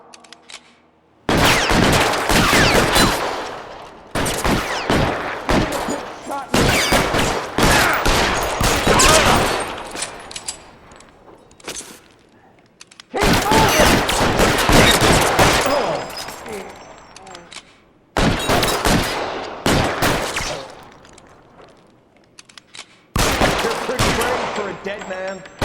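Heavy gunfire exchanges in a 1940s Los Angeles shootout in L.A. Noire, long loud volleys of rapid shots broken by short silences, with character dialogue shouted in between.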